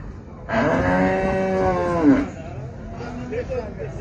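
A dairy cow at a livestock market in Maştağa lets out one long, loud, close moo lasting about two seconds. Market background noise and a low murmur of voices follow.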